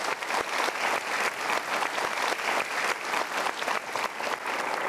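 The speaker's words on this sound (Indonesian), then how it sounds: "Kita berikan tepuk tangan untuk mereka" A TV studio audience claps steadily for guests, a dense rhythmic wave of applause with periodic surges that carries on for several seconds at moderate volume without speech.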